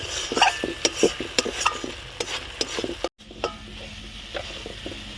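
Spice masala fries in oil for a tengra fish curry, a spoon scraping and stirring in repeated strokes over a soft sizzle, with a brief dropout midway.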